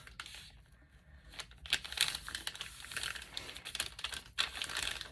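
Paper crinkles and rustles while a flap on a handmade watercolor clutch is folded back on itself, with soft creasing and crackling sounds close up and no talk.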